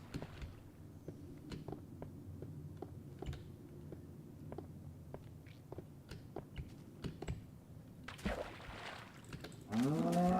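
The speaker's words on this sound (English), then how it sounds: "Those cows, they sound like monsters." Low cow moos in Minecraft drift in at a distance over quiet background ambience and soft clicking, ending in a louder, rising bellow near the end.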